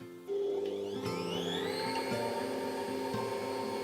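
A Bosch kitchen machine runs steadily, mixing flour with a pinch of salt: a loud, sustained motor whine that starts abruptly and rises in pitch as it spins up, then holds an even hum with no voices.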